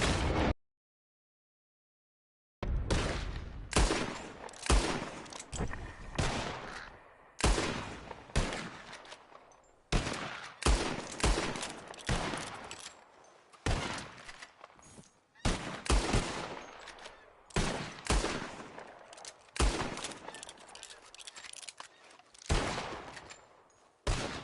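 Rapid gunfire in Red Dead Redemption 2 as birds are shot from the sky: dense volleys of sharp shots in clustered bursts, loud and close, with one brief silent gap near the start.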